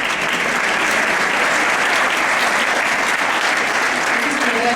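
Sustained, dense applause fills the room at a medical conference, an audience clapping loudly and evenly for nearly five seconds with faint voices mixed beneath.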